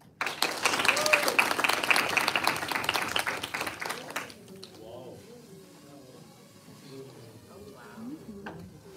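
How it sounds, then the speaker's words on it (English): Audience applause at a school showcase in South Korea, loud dense clapping for about four seconds that then stops abruptly, leaving quieter room noise and faint scattered sounds. "I'll give it a round of applause."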